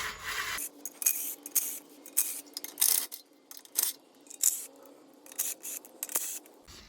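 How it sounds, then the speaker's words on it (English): Close, repeated ratcheting and metallic clicking bursts from a wrench loosening 10mm oil pan bolts under a Nissan 370Z. Short irregular strokes come in quick succession with brief pauses and no talk. "There's 10mm bolts around the oil pan here. I'm gonna go ahead and take off now."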